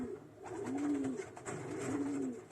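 A female pigeon coos in two drawn-out, rising-and-falling calls, close and clear against a soft background.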